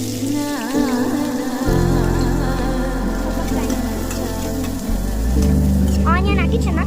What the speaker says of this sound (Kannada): ಆನಿಯನ್ ಹಾಕಿ ಚೆನ್ನಾಗಿ ಫ್ರೈ ಮಾಡಬೇಕು.